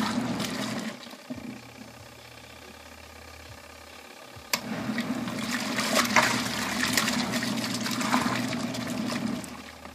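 Water splashes and trickles while dirty car detailing wash mitts and shammy rags are rinsed, a steady close wash that grows louder and busier midway.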